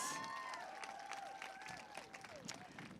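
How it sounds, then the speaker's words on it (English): An audience at an event gives Max a round of applause, with scattered clapping, a few high whoops and crowd chatter mixed in, fading slightly toward the end. "can we get one more round of applause for Max?"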